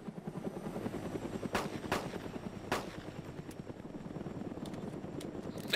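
A helicopter in an online shooter game drones steadily while sharp bursts of gunfire crack out several times, loud and close against the rotor noise, with no voices.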